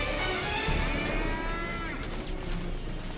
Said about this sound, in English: Why do they sound like cows?